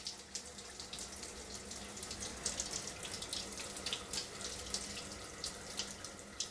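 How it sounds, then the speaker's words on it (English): Water running steadily from a shower tap in a hotel bathroom on Murano, Venice, a constant close hiss and splatter at moderate volume with no talk. "I'll just quickly turn on the water and just check out that water pressure here for you all"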